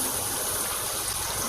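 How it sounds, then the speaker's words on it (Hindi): Water is poured steadily into a pot of chicken korma, a continuous close splashing gush that lasts the whole moment without any talk. "अब मैं पानी ऐड करूँगा थोड़ा"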